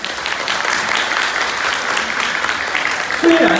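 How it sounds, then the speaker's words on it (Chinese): A crowd at an International Volunteer Day commendation event in Matsu gives warm, sustained applause, a dense patter of many hands clapping at a steady level, swelling slightly toward the end. "先给大家一个热烈掌声。"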